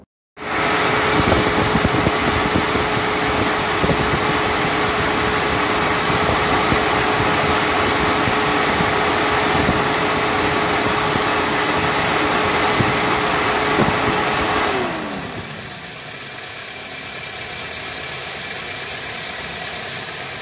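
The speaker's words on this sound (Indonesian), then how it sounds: "ini kipas harusnya sudah menyala teman-teman" A car's radiator cooling fan whirs steadily over the running engine in a loud, constant roar, then winds down near the end and leaves a quieter engine hum.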